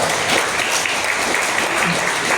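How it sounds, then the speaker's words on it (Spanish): Congregation applauding during a Spanish-language church service, dense, loud clapping that fills the whole moment without a break. "¿Cuánto de un aplauso al Señor?"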